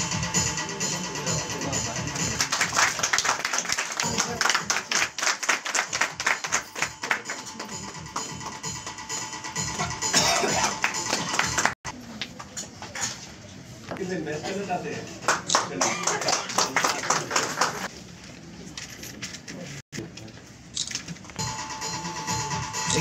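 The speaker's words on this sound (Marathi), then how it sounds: "एकदा जोरदार टाळ्या वाजवा." An audience at a convention of a police-friend, journalist-protection and right-to-information association breaks into sustained, fairly loud applause, dense clapping with a brief pause, carrying on for most of the stretch.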